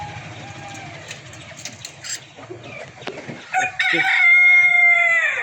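Black and white chickens on a parent-stock poultry farm, with a rooster letting out a loud, sustained crow near the end over scattered clucking and someone talking.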